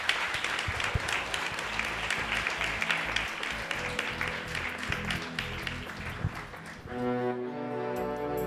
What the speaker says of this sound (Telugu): అందరు గట్టిగా చప్పట్లు కొట్టి ఉన్నాం